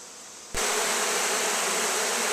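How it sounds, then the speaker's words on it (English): A dense buzz of many honey bees, dumped from a swarm trap in front of a nucleus hive box, swells suddenly after a quiet moment, then continues loud and close without a break. "Here's just the bees that were still left in the swarm trap that I dumped in front of the nuke."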